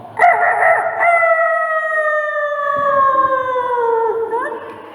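Children's voices imitate a rooster crowing in one long, drawn-out call that slowly falls in pitch over several seconds. The call is loud and close, with light room noise underneath.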